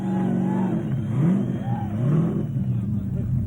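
A supercharged Windsor V8 in a Ford Mustang revs at a Summernats car show, its deep engine rising and falling in a couple of surges with an announcer talking over it.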